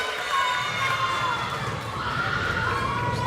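A volleyball match crowd in a gym cheering and shouting in a steady roar, with a high-school Whalers versus Trojans game on, the noise staying loud and even throughout with no clear separate banging.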